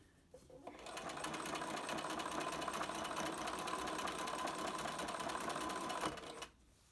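A sewing machine stitches a fabric mask close to the edge, running in one steady, loud continuous whir for about five seconds before stopping, with no talk over it.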